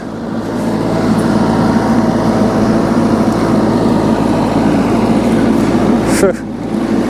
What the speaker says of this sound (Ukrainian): І пішов тракторець працювати.